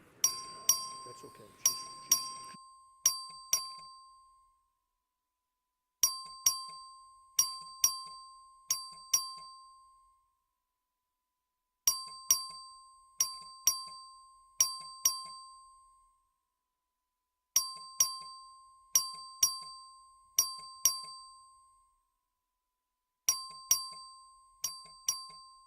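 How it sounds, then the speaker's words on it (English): A clerk rings the bell for a record vote in the Texas House of Representatives in Austin. Five bright, clear dings sound in each burst, and the burst repeats five times with gaps between, each ring decaying cleanly in a quiet chamber. "This is a record vote. The clerk will ring the bell."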